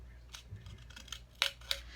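Small scissors snip a few times, quiet clicks early on followed by two sharper, louder cuts near the end, close up.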